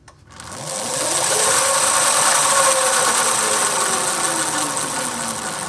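A Currie EZip 400 electric scooter's motor after a rear flat tire fix, spinning up from silence into a loud, steady whine with a rising then falling pitch sweep, close and continuous without talk.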